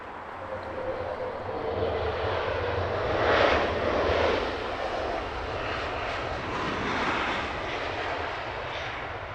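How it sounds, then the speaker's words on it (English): A China Southern Airlines Airbus A350-900 arrives at Heathrow on a long-haul flight from Beijing, its jet engines making a broad, steady roar from some distance that swells briefly and then eases. "Next heavy arrival, China Southern Airlines. Yet another A350-900."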